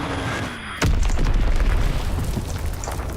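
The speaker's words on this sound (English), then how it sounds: "Enemy bomb incoming!" Bomb explosion in the World War II shooter Call of Duty WW2, a sudden loud close boom followed by a long rumbling, crackling roar.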